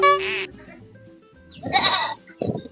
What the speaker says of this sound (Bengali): এই সারা ছাগলটা সারাটা চিৎকার করে মাত্র একটা বাচ্চা।